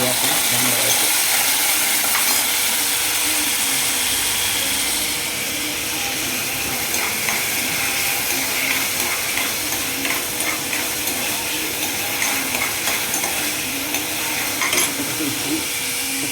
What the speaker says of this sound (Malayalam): ഒരു തീ കുറച്ച് വെച്ചിരുന്നത് നമ്മുടെ ക്യാരറ്റ്, പച്ചമുളക്, കരിവേപ്പില നമ്മൾ വഴറ്റും.